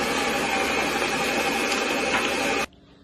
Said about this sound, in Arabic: بضربه بهالنوع من الهوك في الخلاط